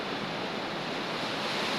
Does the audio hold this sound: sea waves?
yes